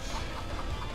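Chickens cluck in the video game Hyrule Warriors, a short, steady burst of clucking over a dense game background with no talk.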